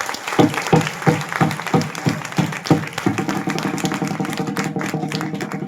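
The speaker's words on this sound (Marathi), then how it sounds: "मोकळ्या हाताने टाळी वाजवा" An audience at a kirtan in Bhalki claps, first in a slow rhythmic beat and then in a denser burst of applause, with a faint musical tone underneath.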